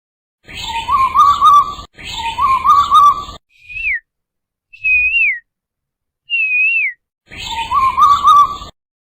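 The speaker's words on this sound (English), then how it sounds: "I know this familiar bird call. It's the cuckoo" A cuckoo sings in loud trilling phrases, alternating with three short, clear whistled notes, close and without talk.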